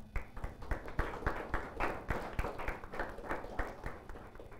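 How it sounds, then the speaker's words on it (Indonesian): Audience applause at a 2023 student council (MPK) candidate debate: a crowd claps steadily for several seconds with dense, even hand claps, heard fairly softly and at a distance. "Mari tepuk tangan untuk kita semua"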